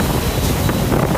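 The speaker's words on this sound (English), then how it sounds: "Fierce winds from Storm Emnati whistled through Fort Dauphin, Madagascar, ripping through the air and toppling everything in its path." Fierce storm winds from Storm Emnati roar in Fort Dauphin, Madagascar, a dense, loud, continuous rush of wind buffeting the microphone with no voices.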